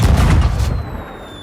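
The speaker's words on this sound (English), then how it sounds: "Or potentially if you are close to an exploding firework, you will get stunned." A firework bursts in the pirate video game Sea of Thieves, a loud, close booming blast that rumbles for under a second and then leaves a faint ringing tone.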